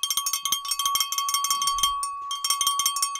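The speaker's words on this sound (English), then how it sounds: "We'll get the bell going for you in the chat." A bell rung rapidly for a chat donation during a livestream, bright metallic strikes in quick repeated bursts with brief gaps, loud and close.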